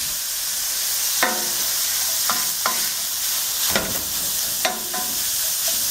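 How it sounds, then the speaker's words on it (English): Sausage being broken up and browning in a hot pan for sausage gravy: a loud, continuous sizzle with repeated sharp scrapes and knocks of a utensil, close up, with no talking. "So now we're just going to break up the sausage"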